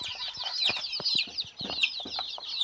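Sick chickens cluck and squawk close by in quick, irregular bursts, with sharp clicks and rustles mixed between the calls.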